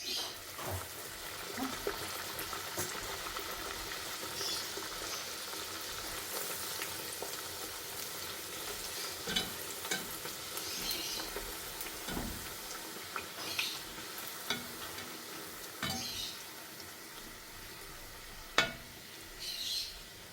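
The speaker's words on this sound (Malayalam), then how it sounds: "അത് എണ്ണയിലേക്ക് ഇട്ട് കൊടുക്കാം. ചൂടായി വന്ന എണ്ണ ഉണ്ട്." Bhatura dough frying in hot oil gives a steady, soft sizzle throughout, with occasional small pops and bubbling bursts and no talking.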